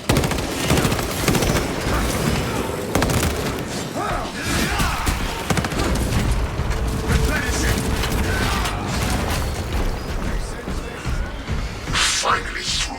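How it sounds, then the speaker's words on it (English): Cannon explosive warheads detonate in a video game in a dense, continuous barrage of booming blasts and crackling impacts, loud and close throughout. "Cannon explosive warheads are a thing to behold."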